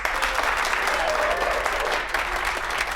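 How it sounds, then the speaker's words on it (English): A studio audience on the cooking game show Get Ready, Cook gives a steady, dense round of applause for the contestants. It sounds close and sustained for a few seconds with faint voices mixed in. "a big round of applause for today's contestants"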